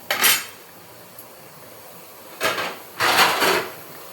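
Lid set on a cooking pot of simmering masala in a home kitchen: a sharp metallic clatter at the start, then two more clanks and scrapes a few seconds later, close and loud against a quiet background.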